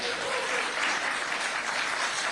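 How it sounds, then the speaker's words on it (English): Studio audience on a televised news talk show breaks into sustained, dense applause, steady and loud throughout, with no voices over it. "Huge round of applause."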